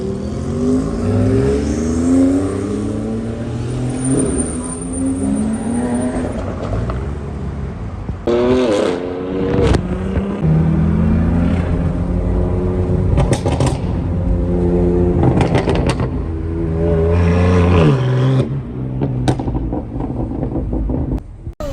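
A car engine revs and accelerates loudly, the pitch rising in repeated surges with rumbling bursts, close by and with no talking.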